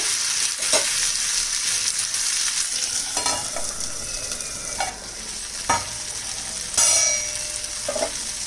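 Tomatoes cooking in a pan for matar paneer give a steady, close sizzle throughout, broken by a few bright metallic clinks of a utensil against the pan, with no one speaking.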